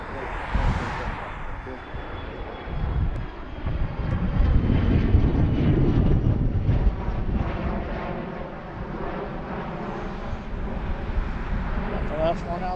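A fixed-wing airliner taking off from runway 9 left at Philadelphia airport, with a loud low engine roar that builds and holds, plus wind buffeting on the microphone.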